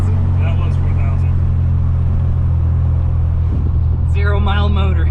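A supercharged Pontiac Bonneville SSEi with a new L67 engine and ZZP VS cam runs with a loud, steady, low engine drone heard from inside the car, and a brief voice breaks in near the end.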